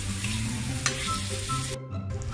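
Hotdog pieces fry in a pan for Jollibee-style spaghetti sauce, a steady loud sizzle with stirring clatter, one sharp tap partway through and a short dip near the end.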